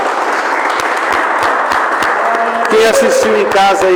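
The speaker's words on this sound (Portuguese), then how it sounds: "Dê uma salva de palmas para Jesus." A church congregation claps together after a Bible study, a steady round of hand claps with individual slaps standing out, while voices carry over it near the end.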